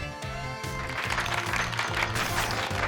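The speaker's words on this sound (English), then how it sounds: "Give Pikachu a round of applause, everyone." Applause from the Pokémon Violet video game: a dense crowd claps steadily for a few seconds over a rhythmic looping game music bed, fairly loud and without talk.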